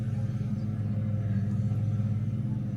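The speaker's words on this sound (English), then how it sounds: "Why is it when you ready to record, your neighbor want to cut the grass?" A neighbor's lawn mower engine runs steadily outside, a continuous low droning rumble at moderate distance with no speech over it.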